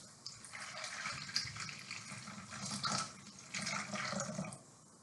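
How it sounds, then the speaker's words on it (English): Warm water poured into a bowl with yeast for baguette dough, a soft splashing trickle of liquid close up, lasting a few seconds before fading. "the first step is to put the yeast in the bowl and to put the water in"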